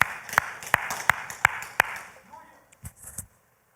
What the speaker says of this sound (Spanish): detente por unos segundos y dale palmas a aquel que se lo merece